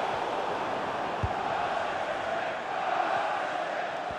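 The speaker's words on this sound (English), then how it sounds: "The crowd encouraging him to take it on." Stadium crowd in EA Sports FC 24 during a Manchester United vs Manchester City match, a steady broad roar of cheering and chanting, moderately loud and unbroken, with one brief thump.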